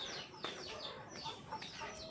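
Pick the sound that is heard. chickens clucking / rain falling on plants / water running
chickens clucking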